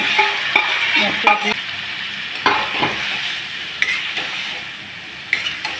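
Taro stolons and prawns sizzle in hot oil in a home kitchen, a constant frying hiss broken by several sharp scrapes and clinks of a spatula stirring against the pan.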